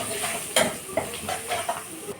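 Spices for aloo paratha fry in a pan, a close sizzle broken by several quick scraping stirs and light knocks of a utensil against the pan.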